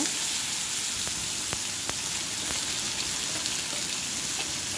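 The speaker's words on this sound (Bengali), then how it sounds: "এবারে আলু আর কচুগুলো দিয়ে সামান্য একটু ভেজে নেব।" Potatoes and small taro pieces fry in hot oil seasoned with dried chilli and panch phoron, giving a steady, close, broadband sizzle with a few faint clicks of a utensil against the pan.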